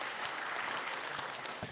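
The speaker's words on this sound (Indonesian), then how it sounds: "tepuk tangan dong buat mereka" A comedy roast audience applauds, many hands clapping in a dense, even burst that fills the whole moment, fairly faint and without talk.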